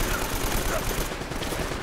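AK rifle fire in Uncharted: Drake's Fortune Remastered, a dense, steady stream of rapid shots close up and loud for the whole stretch, with no pause.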